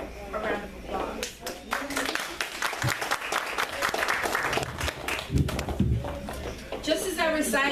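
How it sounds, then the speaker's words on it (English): Audience applause at a fundraiser for Pimlico Elementary, steady clapping from a crowd that holds through the whole stretch, with voices talking over it. "I think that they deserve a round of applause."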